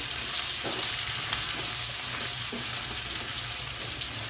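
Okra cooking in a pan with turmeric and salt, being stirred: a steady, moderate sizzle with a few soft scraping strokes of a spoon, close by and with no talking.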